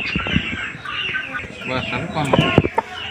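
A glossy white rooster of medium height, about 3 kg, clucks in short bursts close by, with someone talking over much of it.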